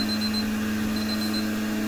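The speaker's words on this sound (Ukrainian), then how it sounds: "Молочко вже нагрілось, таймер спрацював." A kitchen timer goes off while goat milk warms for separation, a thin repeating electronic beep over the steady hum of a cream separator running nearby, with no speech.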